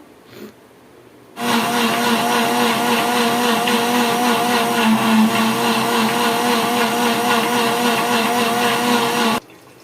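A mixer grinder blends amla gooseberries with water. After a short quiet start, the motor kicks in loudly with a steady, harsh whirring roar that holds for about eight seconds, then cuts off abruptly.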